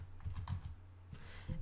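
Soft, quick keystrokes on a computer keyboard, a short burst of faint clicking taps at close range.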